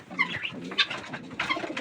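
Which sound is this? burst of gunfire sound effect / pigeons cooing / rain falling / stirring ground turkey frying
pigeons cooing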